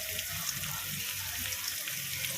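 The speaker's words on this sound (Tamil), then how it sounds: "இப்போ இது எல்லாம் நல்லா வதங்கணும்" Onions sautéing in a pan for chicken uppu curry give an even, continuous hissing sizzle, close and moderately loud, with no distinct stirs and no voices.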